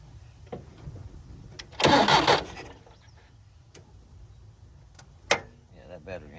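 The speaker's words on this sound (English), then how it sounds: "Let me turn this key and see if it makes any noise" A Japanese kei truck's engine cranks with a burst of starter whine as the ignition key turns, then falls quiet, with a few clicks and knocks around it.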